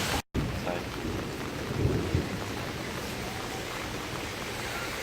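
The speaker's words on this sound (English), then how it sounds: "Can you hear it thunderstorming?" A thunderstorm with rain in Orlando, Florida, heard outdoors: steady rainfall hiss throughout, with a low rumble of thunder swelling briefly around the middle, and no clear talk.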